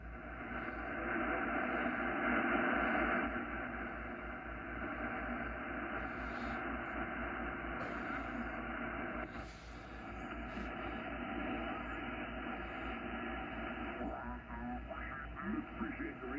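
Steady hiss of static from the speaker of a Yaesu FTDX-10 amateur radio receiver with a high noise floor, a constant moderate wash of noise with faint tonal hum and brief crackles.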